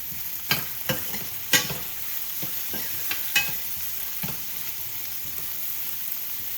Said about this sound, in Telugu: ఇప్పుడు ఆనియన్స్ లైట్గా ఫ్రై అయ్యాయి